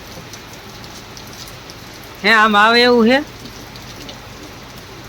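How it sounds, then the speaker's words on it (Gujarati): Rain pours down in a steady, hissing wash, and a voice calls out briefly partway through. "કેવો વરસાદ વરે"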